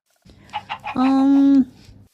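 A Minecraft chicken gives a few quick clucks followed by one drawn-out squawk, fairly close and clear.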